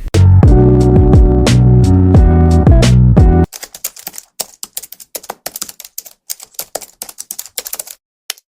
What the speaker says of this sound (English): So first open the terminal and type sudo apt update.